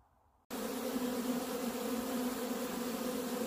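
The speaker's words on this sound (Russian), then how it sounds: "Пчелки облетываются" Honey bees buzz in a dense, steady drone at an apiary in spring, the swarm sound starting abruptly and holding loud and continuous with no talk.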